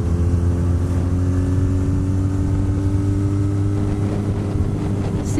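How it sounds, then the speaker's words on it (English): A Honda Nighthawk motorcycle on the move, passing other vehicles, its engine droning close and loud with steady harmonic tones under rushing wind noise. "See, you can pass people on a Nighthawk."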